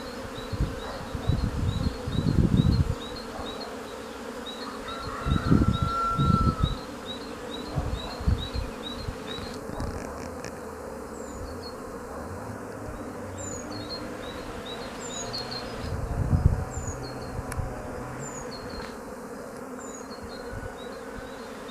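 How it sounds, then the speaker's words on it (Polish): Steady buzzing of many honeybees close by at their hives, with occasional louder bees passing near and faint bird chirps in the background. "takie ujęcia bardzo bliskie pszczół"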